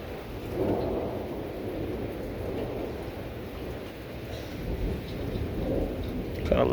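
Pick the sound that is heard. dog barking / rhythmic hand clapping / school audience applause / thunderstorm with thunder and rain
thunderstorm with thunder and rain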